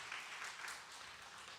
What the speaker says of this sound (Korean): 그래서 참 잘했다고 박수 한번 해주시길 바랍니다.